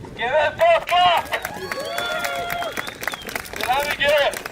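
Spectators applaud a prize winner at a street mile race award ceremony with sustained, even clapping. The applause is moderately loud and runs under an announcer's voice over a loudspeaker.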